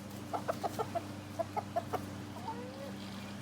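A baby chicken clucks in a quick run of short soft notes, then a few more after a pause, followed by a faint rising chirp, outdoors in a turtle enclosure against a steady low hum.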